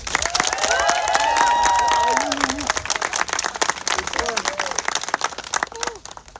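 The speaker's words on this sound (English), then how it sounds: "Let's give them a round of applause" Applause from the audience at the Springdale Preparatory School 2022 graduation, honouring the graduating class. The clapping is loud for about two seconds, then thins and tapers off, with voices and a few whoops mixed in.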